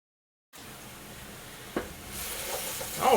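Mirepoix and garlic sauté in a pan, making a soft, continuous sizzle that starts after a moment of silence, with one sharp clink partway through and the frying growing slightly louder toward the end.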